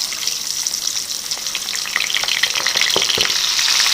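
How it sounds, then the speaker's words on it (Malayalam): Stuffed squid frying in a pan of hot oil, a constant close sizzling hiss with scattered crackles and pops swelling slightly toward the end. "നമുക്ക് ഓരോരോ കണവ ഇതിനകത്തേക്ക് ഇട്ട് കൊടുത്ത് വറുത്തെടുക്കാം."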